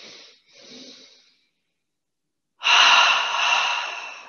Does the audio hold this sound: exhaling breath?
yes